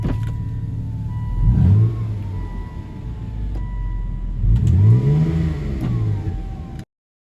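A Volvo XC90 engine with its muffler removed revs up twice, each burst rising into a loud, raw growl before settling back to a rough idle, then cutting off abruptly.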